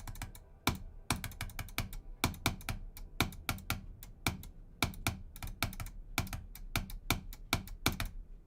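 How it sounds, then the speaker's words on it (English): Loud, sharp clicking from rapid gaming input, dense irregular bursts of crisp mouse or key clicks repeating steadily and close-up with no talk. "But I really am clicking loud in the pre-drop."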